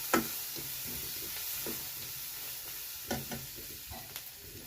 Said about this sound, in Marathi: कांदा पण मस्त असा परतला आहे